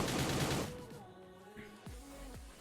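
A rapid, loud burst of gunshots in the sci-fi battle royale Cyber Hunter opens the moment, followed by a few fainter single shots and game effects.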